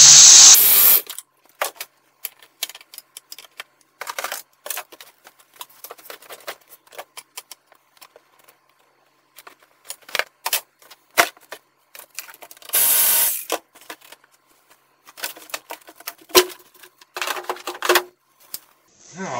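Metal clicking, scraping and tapping from working a stubborn loose intake duct clamp on a 2005 Chevy 2500 with a 6.0 engine, close-up and intermittent, with louder rustling bursts and long quiet gaps between efforts.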